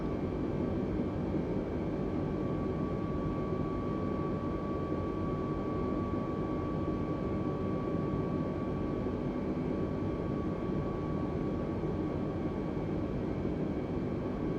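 An Airbus A320neo in Microsoft Flight Simulator 2020 drones with a steady engine and airflow roar and a faint whining tone, constant and unbroken throughout.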